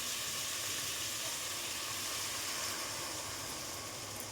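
Potatoes fried with spice paste and paneer hiss steadily in a pan after a little water is added, giving a soft, even sizzle that continues without pause.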